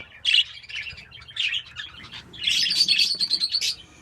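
Chicks from a lutino and painted bird pairing chirp in bursts of high, thin calls, a louder stretch of cheeping coming near the end, with no talking.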